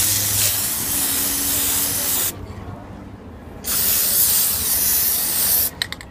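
Rubber coating sprayed from an aerosol can onto a fly fishing reel, a Redington Rise: two long steady hissing bursts separated by a pause of about a second, close and loud, ending with a few short clicks.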